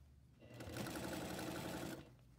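A sewing machine stitches an Islander shirt in one short, close burst of rapid mechanical chatter lasting about a second and a half, starting and stopping cleanly with no talk.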